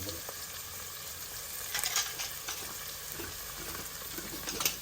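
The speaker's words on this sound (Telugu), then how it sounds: "ఉల్లిపాయలు వేగుతున్నాయండి బాగా చూడండి" Steady crackling sizzle of onions frying in a pan for tomato drumstick rasam, continuous and close, with a few brief louder bursts of spitting.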